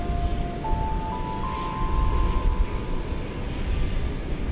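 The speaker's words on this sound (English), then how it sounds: "Yes, that's a UPS 757 off to where else? Louisville." A UPS Boeing 757 takes off at DFW Airport, its engines making a steady, loud roar with a rising whine and some wind rumble. There is no talking.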